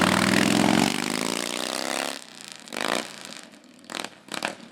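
Motorcycle passing close by outside a CalTrans maintenance station in Santa Maria, a loud engine roar with a falling pitch as it goes past, then fading, with a few other vehicle sounds afterward.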